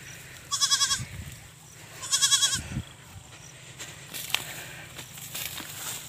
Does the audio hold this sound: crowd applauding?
no